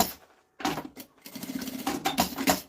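Sewing machine stitching a seam on a small fabric cosmetic case, a short run of rapid rattling stitches starting after a brief pause, close and moderately quiet.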